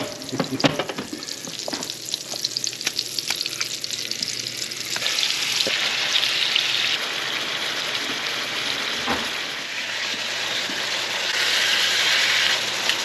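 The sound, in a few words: pork tenderloin frying in pan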